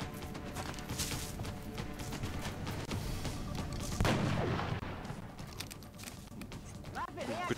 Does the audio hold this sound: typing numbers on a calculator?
no